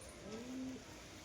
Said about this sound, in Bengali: এই যে কবুতর, বাড়ির কবুতর